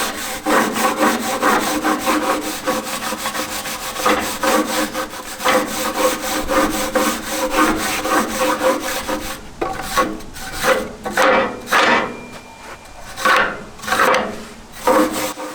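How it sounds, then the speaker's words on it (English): Steady, raspy wire-brush scraping strokes inside an outdoor wood furnace run continuously, then break into sharper separate rubs toward the end, close and fairly loud with no talking. "When I clean this out, I think I got a wire brush also."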